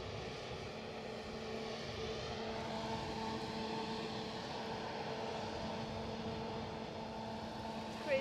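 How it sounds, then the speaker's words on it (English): An inbound EasyJet airliner at Edinburgh airport produces a continuous, even jet engine rumble with a faint whine layered on top, holding steady throughout. "That inbound EasyJet"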